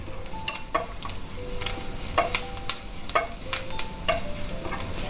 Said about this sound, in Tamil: இந்த இஞ்சி, பச்சை மிளகா இதெல்லாம் எண்ணெயில் நன்னா பொரியணும்